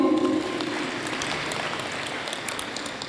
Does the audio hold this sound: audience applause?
yes